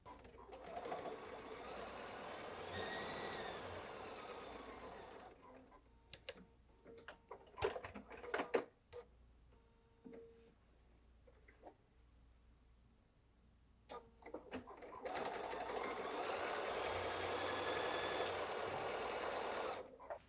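A sewing machine stitching quarter-inch seams on a quilt block, running in a steady close whirring burst, pausing for scattered clicks and handling noises, then running again in a second long steady stretch.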